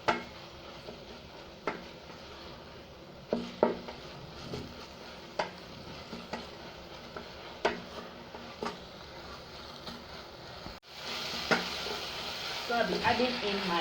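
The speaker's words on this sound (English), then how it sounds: "So we'll be giving this a stir." Kpomo (cow skin) sauce with curry powder and ground crayfish sizzles steadily in a pan, punctuated by periodic spoon knocks against the pot and a louder frying surge near the end.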